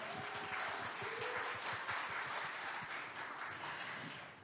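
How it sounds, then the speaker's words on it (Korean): Applause from the audience at the closing ceremony of a 2021 Pyeongchang disability forum, a full, sustained clapping crowd heard at moderate distance that tapers slightly toward the end. "여러분 다시 한번 큰 박수 부탁드리겠습니다"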